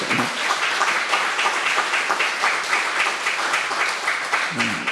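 A church congregation applauds during a Sunday worship service, welcoming visitors: a dense, steady round of clapping from many hands that fills the room evenly for several seconds.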